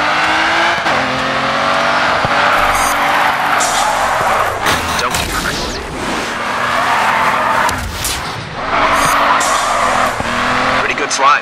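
A race car slides through a corner in the GRID 2 racing video game, its tires squealing loudly and continuously over engine noise, the squeal wavering and swelling as the back end drifts.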